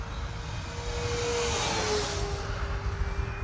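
An FMS P-47 Razorback RC model airplane drones steadily overhead and swells slightly as it passes nearby, its engine whine holding throughout.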